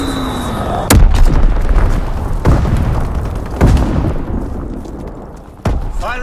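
Bombing-run explosions in Call of Duty WWII, Domination on the Shipment 1944 map: three or four heavy, loud booms spaced a second or two apart, each leaving a long rumbling decay over constant battle noise.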